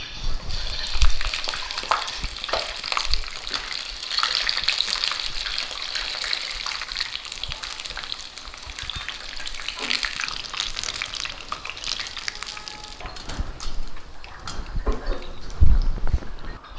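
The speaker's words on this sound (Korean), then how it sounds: "지금 보글보글 소리가 없어지면은 물기가 다 없어졌다는 건데" Shiitake mushrooms frying in hot oil while cooking vegan mapo tofu, a loud continuous sizzle and bubbling hiss with occasional louder pops and clatters.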